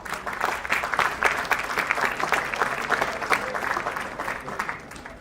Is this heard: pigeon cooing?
no